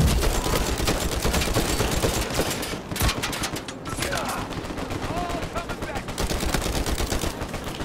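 Dense, sustained automatic gunfire crackles and rattles in an Uncharted 4: A Thief's End multiplayer match on PS4, loud and nearly continuous throughout.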